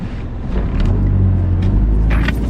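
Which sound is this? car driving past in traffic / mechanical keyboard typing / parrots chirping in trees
car driving past in traffic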